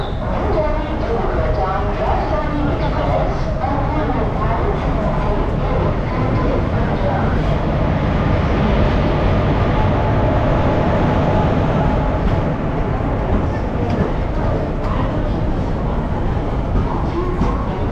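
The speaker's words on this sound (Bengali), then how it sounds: "এবারে কিন্তু আসছে আমাদের কলকাতা হলদিবাড়ি সুপারফাস্ট ট্রেন" The Kolkata–Haldibari Superfast train rolling into a station at night, a continuous loud rumble and rail clatter sustained for the whole stretch, with voices mixed in beneath.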